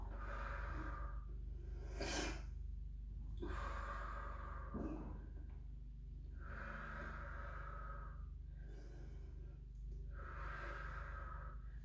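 A person breathing in and out during a pilates back and abdominal workout, with slow, audible inhales and exhales alternating in a regular rhythm, close and fairly loud against quiet background noise.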